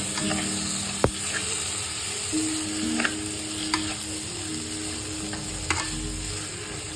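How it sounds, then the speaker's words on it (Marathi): Cluster bean curry with tomatoes just added, frying and stirred in a pan: a steady sizzle runs throughout, broken by a few sharp spoon clicks against the metal, with no talking. "आता याच्यात टमाटर ऍड करणार आहे"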